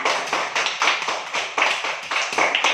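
A classroom group claps hands together during a teaching practice lesson, producing a steady run of close, loud, sharp claps with an uneven rhythm that carries on without a break.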